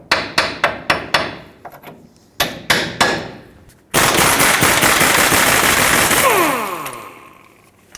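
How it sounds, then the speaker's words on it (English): Sharp metal-on-metal hammer blows drive a socket over a ball joint nut on a 1996-2002 Toyota 4Runner's front lower control arm, first in rapid bursts of close, loud strikes, then a long continuous rattling run that tapers off. "So I'm just going to hammer my socket over"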